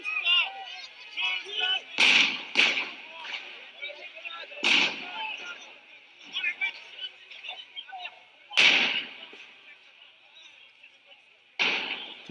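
Fireworks burst during a street protest in France where firefighters clash with police, several loud sharp bangs arriving at uneven intervals over a noisy crowd with shouting voices throughout.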